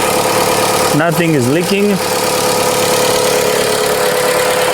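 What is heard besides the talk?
Chrysler 200 car engine running idle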